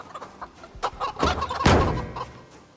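Chickens in the video game Project Zomboid cluck and squawk in a short, agitated flurry, close and loud, peaking in one sharp cackle before trailing off.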